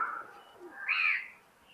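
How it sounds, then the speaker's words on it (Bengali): Pakistani high flyer pigeons in a loft give a faint, close cooing call, a short soft phrase followed by a brighter rising note, with quiet surroundings. "লফটে অনেকগুলো কবুতর দেখলাম।"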